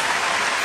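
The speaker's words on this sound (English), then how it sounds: "A round of applause for John." A theatre audience at a comedy ventriloquist show bursts into a brief, full round of applause, heard as a short, dense burst of clapping.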